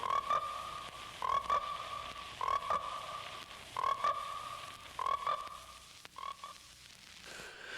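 Frogs croaking in a film trailer for the American International picture Frogs: loud rhythmic croaking calls repeat in regular bursts about every second and a half, with a steady chorus of frogs underneath.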